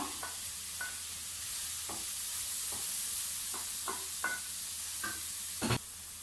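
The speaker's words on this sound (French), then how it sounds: "Après avoir fait revenir les escalopes, je mets l'oignon." Onion goes into a wok cooked without oil after escalopes and gives a quiet steady sizzle, broken by a handful of sharp stirring clicks and scrapes, with one louder scrape near the end.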